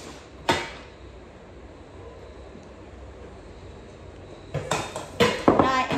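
Japanese household cookware, a pot and a heavy frying pan, is handled with a sharp metallic clank, then a quiet pause, then a cluster of rattling, clattering knocks as pieces are shifted and set down close by.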